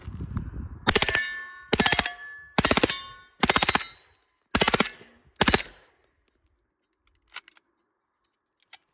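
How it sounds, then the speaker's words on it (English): A suppressed MP5K clone fires 124-grain ammunition from an MKE magazine in six rapid, close bursts of muffled automatic fire, followed by near silence and a few faint clicks. "These are 124 grain. Let's see how they run. This one is with an MKE mag."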